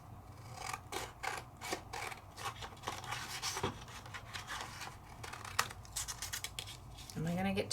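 Scissors snip through card stock being trimmed down for a card base, giving a string of short crisp cuts and rasping strokes at close range over a quiet room, with a light low hum underneath.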